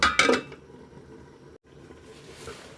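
A lid goes onto a cooking pot of puti fish and spinach with a brief metallic clink and clatter at the start, followed by a quiet simmering background.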